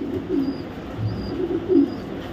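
A female pigeon gives a few low, soft coos close by, in two short bursts over a quiet background.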